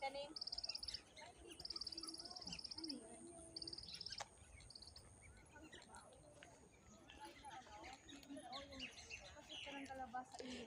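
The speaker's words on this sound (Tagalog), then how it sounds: "Ang liit ng ibon na to pero ang ingay oh." A small, noisy bird chirps among dragon fruit plants at Long Valley Park, giving bright repeated bursts of high tweets over the first few seconds before quieter ambience with insect-like buzzing continues.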